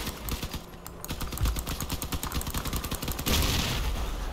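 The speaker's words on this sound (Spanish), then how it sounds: "Y las ráfagas cortas os van a permitir que realmente el disparo sea muy, muy, muy ajustado al sitio." Rapid short bursts of vehicle-mounted gunfire in the armored combat game Crossout, a fast rhythmic series of sharp shots close and loud, with a brief heavier blast near the end.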